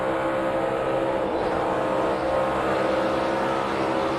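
NASCAR race cars running five wide down the front straightaway, a dense, steady engine roar from the pack held at constant loudness throughout.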